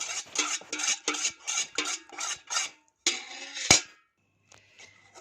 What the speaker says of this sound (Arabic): هقلب كله مع بعض.